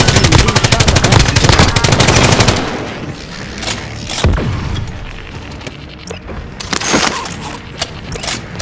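Rapid machine-gun fire rattles loudly in Call of Duty: Modern Warfare for a couple of seconds, followed by scattered single shots, booms and bursts at varying distances.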